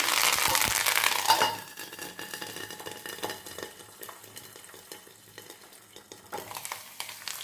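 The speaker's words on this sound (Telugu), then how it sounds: "ఇప్పుడు ఇందులో కరివేపాకు కరివేపాకు మరి కొంచెం వేస్తానండి" Curry leaves are dropped into a hot sambar rice tempering, giving a loud opening sizzle. The hiss then settles into quieter crackling with stirring and a utensil clinking against the pan.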